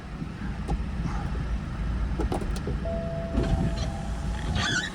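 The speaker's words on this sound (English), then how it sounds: "windows are going up" A car's power windows motor upward at a dealer auction, a thin steady whine in the latter half under a busy outdoor rumble of engines and lot noise.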